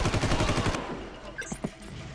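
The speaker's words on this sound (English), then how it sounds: "they have a nice rhythm with those bullets." Rapid gunfire in the video game Far Cry, a loud, fast rhythmic burst of shots for under a second, followed by fainter game sounds and noise.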